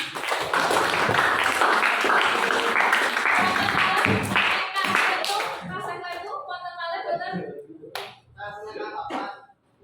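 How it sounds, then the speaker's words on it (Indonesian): A class of schoolchildren bursts into loud, dense applause for a classmate for about five seconds, close and energetic, then it stops and people begin talking. "tepuk tangan buat Faisal"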